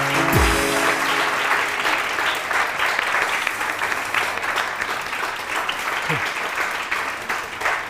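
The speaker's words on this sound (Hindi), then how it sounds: "बहुत सारी तालियां प्लीज।" Studio audience on a TV morning show claps in sustained, dense applause from start to finish, loud and close, with a brief low voice at the very beginning.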